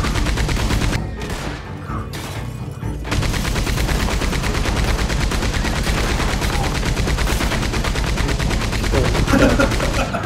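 A Maxim machine gun in Red Dead Online fires long, loud, sustained bursts of rapid gunfire. A brief pause comes early, then near-continuous firing fills the rest.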